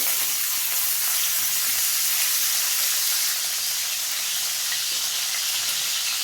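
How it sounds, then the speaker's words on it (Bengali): Cashews and raisins frying in a generous amount of oil with slit green chillies for a mixed rice dish, a steady close sizzle and hiss running unbroken throughout with no talk. "দেখো কাজু আর কিশমিশ ভাজা হয়ে গেছে"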